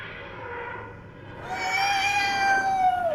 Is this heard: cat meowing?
yes